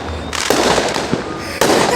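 Fireworks burst and crackle close by in a loud, continuous barrage, with sharp pops layered over a dense rumbling wash for the whole stretch.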